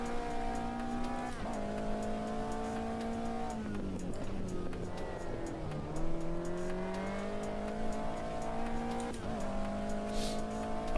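A race car engine in Automobilista 2 drones steadily at high revs, its pitch dipping and climbing through gear changes and lifts, with faint tire squeal along the way; loud and continuous, with no voices.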